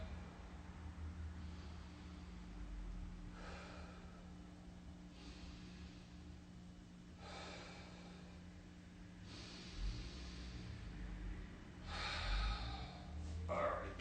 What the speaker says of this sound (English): Belly breath.